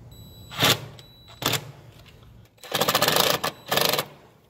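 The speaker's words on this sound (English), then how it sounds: "I recommend using something powered, whether it's air or electric, because they are self-tappers." A powered driver whirs in short bursts while driving quarter-inch self-tapping screws during a clutch quadrant and firewall adjuster install on an SN95 Mustang, with four close buzzing runs separated by quiet pauses.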